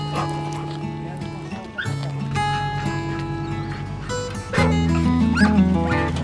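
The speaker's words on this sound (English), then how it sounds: "we're gonna take and load these dogs up. You can tell they're very excited here" Excited pheasant hunting dogs in Redfield, South Dakota, barking and whining repeatedly at close range before being loaded up, with yips and whimpers over a steady background hum.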